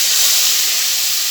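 Onion and green chili paste hits hot oil in a pan where fish was just fried, giving a loud, steady, broadband sizzling hiss that holds without a break and with no voices.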